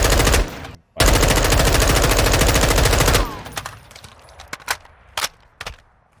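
Rifle fire in Call of Duty MW2/Warzone 2: a short burst, then a long sustained automatic volley lasting about two seconds, followed by a few scattered single shots and softer clicks. The fire is loud and close.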